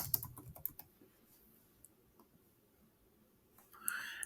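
Brief faint typing on a computer keyboard in shipping software setup, a quick run of soft keystrokes at the start, then near silence with a small click burst at the end.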